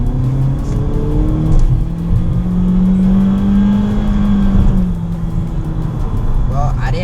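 A 2022 Honda Civic Sport in sport mode accelerates hard, its engine note rising steadily in pitch as it pulls. Tire and road noise run underneath, and a voice speaks over it near the end.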